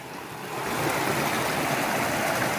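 Water rushes steadily along a stream near a waterfall in a village, a broad, continuous hiss that swells slightly at the start and stays close and loud.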